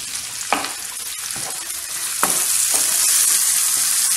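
Sliced peppers, garlic and tomato frying in a pan, a steady loud sizzle with occasional stirring scrapes and pops that grows slightly more intense toward the end.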